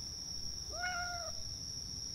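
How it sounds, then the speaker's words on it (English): A cat meows once inside a horror video game's bathhouse, a single drawn-out mid-pitched call rising and falling, fairly faint over a steady high electronic whine and low background noise. "I hear a cat."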